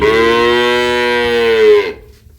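A single long, loud dairy cow moo on a farm, close by and steady for nearly two seconds before cutting off into quiet.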